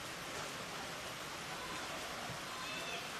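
Torrential rain pours down during a women's football match between Heidelberg United and Essendon Royals, a dense, steady hiss of heavy downpour filling the whole moment without a break.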